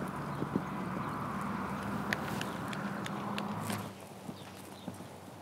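A ridden horse's hooves clip-clop in a steady rhythm on the ground during a jumping lesson, fairly faint under a continuous broadband background.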